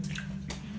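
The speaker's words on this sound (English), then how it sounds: "there's water though" Water drips and splashes inside a haunted tunnel, two soft broadband splashes over a steady low hum, close and fairly quiet with no talk.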